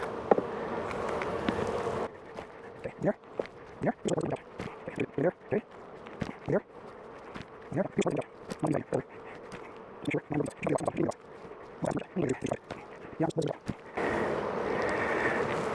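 Honeybees buzz in a hive box during a beekeeping inspection, a steady droning hum at the start and end with clicks, knocks and handling noises in between, and a person talking intermittently.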